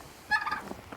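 Backyard turkeys calling just after one lays an egg, a short burst of bright gobbling chirps that rises suddenly, then trails off into softer calls, close by and alone.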